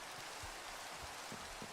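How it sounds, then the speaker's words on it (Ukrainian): Light rain falls steadily outdoors, a soft continuous hiss with scattered faint drips and patters, with no talking. "дощ паде"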